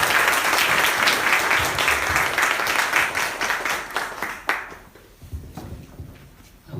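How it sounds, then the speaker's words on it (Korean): Congregation at a Korean church worship service applauds to welcome visiting members, a dense burst of many hands that thins out and fades toward the end, with a few last scattered claps. "우리 오신 정의교회 우리 성도님들께 감사와 사랑의 박수로 우리 환영하도록 하겠습니다"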